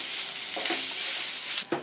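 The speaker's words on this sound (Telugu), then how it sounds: "ఇప్పుడు ఇవన్నీ బాగా మిక్స్ అయ్యేట్టుగా కలుపుకోవాలి" Fried onions and mashed potato being stirred together in a pan for masala dosa filling, giving a soft continuous sizzle with a few scraping strokes of the spoon, close and steady with no voices.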